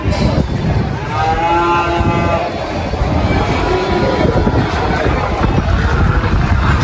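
Large cattle at a crowded livestock market in Magelang, Central Java, with drawn-out lowing moos rising over a busy hubbub of voices and crowd noise.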